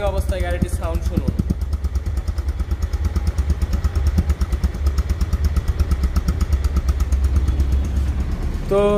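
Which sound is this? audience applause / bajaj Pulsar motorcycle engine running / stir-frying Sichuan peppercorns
bajaj Pulsar motorcycle engine running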